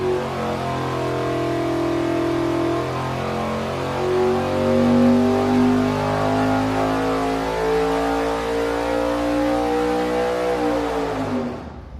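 A 582 cubic inch big block Chevy engine fitted with a 1250 CFM carburetor runs loud and steady on a dyno, a continuous roaring drone with rising and falling harmonics before cutting off near the end.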